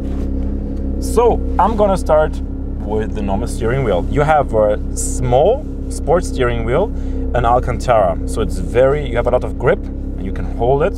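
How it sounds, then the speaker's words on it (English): A new Porsche GT3 idles with a steady, low, droning hum heard from inside the cabin, while someone talks continuously over it. "you want to listen to the sound of the engine"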